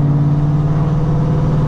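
Cammed 2005–2010 Ford Mustang GT S197 with a 4.6-liter three-valve V8, its engine holding a loud, steady, deep drone for the whole moment, close and continuous with no pops or shifts and no voices.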